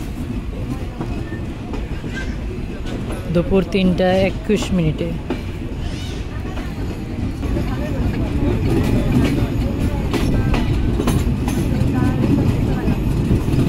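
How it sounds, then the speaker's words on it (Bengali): The Kapotaksha Express intercity train rumbles along the rails leaving Azimnagar station in Bangladesh, with steady rolling noise and rhythmic clacking, growing louder toward the end, while a voice talks over it. "আজিমনগর রেলওয়ে স্টেশন ছেড়ে গেল আন্তনগর কপোতাক্ষ এক্সপ্রেস"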